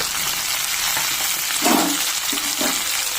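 Drumsticks, radish and carrot fry for sambar in a steady, loud sizzle, with a couple of brief stirring swells; no voices present.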